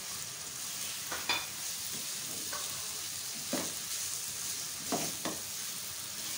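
Cabbage and capsicum are stir-fried for chicken noodles over a soft, steady sizzle. A few sharp scrapes and tosses of the spatula punctuate the frying, and no voices are heard.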